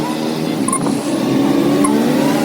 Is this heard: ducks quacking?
no